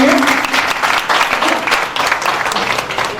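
An audience breaks into loud applause at a stage show in Hyderabad, a dense, continuous burst of clapping with faint voices mixed in.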